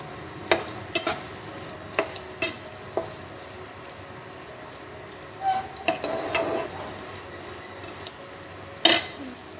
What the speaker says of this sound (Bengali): আবারও একটু ভালো করে এটা নাড়িয়ে চাড়িয়ে নিতে হবে